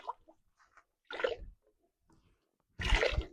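Water poured into a bucket while washing clothes in a village, two short splashing gushes separated by near silence with faint drips between, close to the microphone and with no talk.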